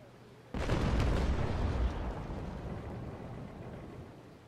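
A ship's cannon broadside fires in the naval combat game Naval Action: a sudden loud deep boom that rolls into a long rumbling decay, alone, with no talk.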